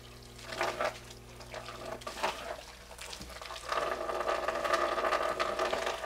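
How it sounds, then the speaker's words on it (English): Water trickling and sputtering through a XERO Pure reverse osmosis membrane system as air clears, faint and irregular at first, then building into a steadier flow toward the end. "I'm starting to get water through."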